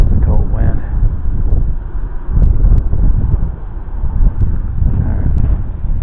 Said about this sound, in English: That's a cold wind there